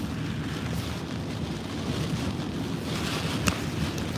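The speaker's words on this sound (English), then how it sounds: "Look at the water, look at the flooding." Hurricane Francine floodwater in Louisiana, heard as a constant rushing wash of water mixed with wind buffeting the microphone, with a brief sharper splash or gust near the end.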